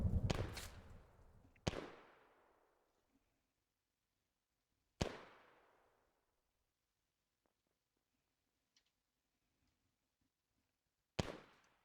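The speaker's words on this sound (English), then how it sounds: "The noise is fireworks." Fireworks bursting outside a house: three loud sharp bangs at the start, another near the middle and one at the end, each trailing off into a crackling decay, with near silence between them.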